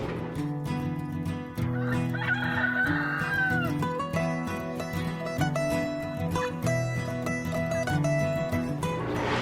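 Chickens cluck and murmur steadily while a rooster crows clearly over the flock, the calls close and layered throughout.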